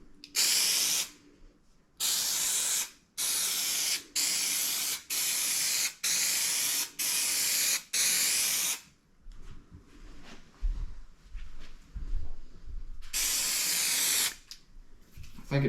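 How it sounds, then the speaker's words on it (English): Spray adhesive hisses from a can in coats onto a custom console for a 1977 C10: eight quick, loud bursts in a steady rhythm, then quieter handling noises and one last burst near the end. "Apply 1 to 3 even coats of adhesive."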